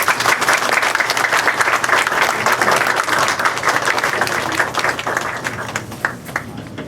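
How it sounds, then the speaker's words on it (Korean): A church congregation gives sustained welcoming applause for a visiting missionary from Sydney, Australia, a steady dense wash of many hands clapping that tapers slightly near the end. "우리 선교사님 나올 때 환영의 박수 해주시면 감사하겠습니다."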